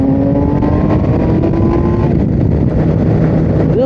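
BMW K1600GTL six-cylinder motorcycle on a night ride with stock exhaust, its intake whining as it sucks in air. A steady engine drone with a thin tonal sing holds throughout, loud and continuous, with no speech.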